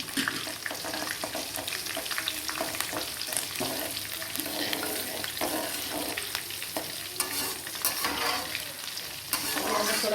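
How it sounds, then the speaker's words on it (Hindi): Black and green cardamom, cloves, cumin and long-cut green chillies fry in hot oil with a close, busy sizzle and crackle, stirred steadily throughout with no talking. "थोड़ा सा फ्राई किया।"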